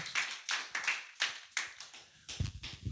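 Church congregation clapping in a loose, uneven rhythm of hand claps, fairly close and moderately quiet, with no voices over it.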